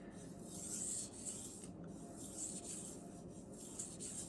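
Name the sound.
sharpening a Messermeister Meridian Elite knife, flipping the burr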